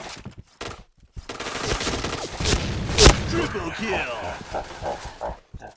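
Gunshots from a shotgun in the video game Point Blank, fired in a busy burst of rapid shots with one sharp, loud report near the middle, with a voice talking over them.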